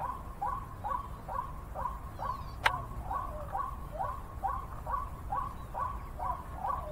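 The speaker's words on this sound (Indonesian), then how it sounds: "di sini ada tekukur nih sahabat ya" A spotted dove repeats a short rhythmic cooing call over and over at a steady pace, moderately distant, with faint background hiss and a single sharp click.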